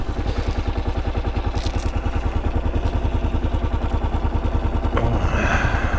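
A Kawasaki KLR 650 single-cylinder motorcycle engine thumps close and loud in a rapid, even pulse at steady idle, with a brief mechanical clatter near the end.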